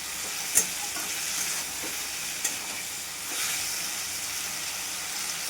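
Cauliflower and potatoes sauté in a pan with a steady, soft sizzle and hiss, broken by a couple of sharp clinks from stirring.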